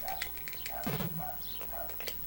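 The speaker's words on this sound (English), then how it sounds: "Unfortunately, we have dogs barking out there. You can hear that." Dogs barking outside somewhere in the background, a few short yelps spread through the moment, faint and partly masked under someone talking over a retro Sega Master System wrestling game.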